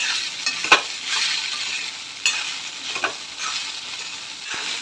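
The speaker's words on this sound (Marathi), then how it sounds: "भिजवलेले पोहे टाकून घेऊ पोहे पण छान प्रकारे मिक्स करून घेऊ आपण" Soaked poha tossed and mixed in a pan for kande pohe, soft sizzling with a few spatula clinks and scrapes at irregular intervals, fairly close and without speech.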